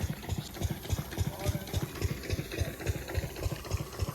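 A farm engine idles in a field of rain-soaked wheat, its low chugging pulses beating in a quick, steady rhythm while a voice talks over it.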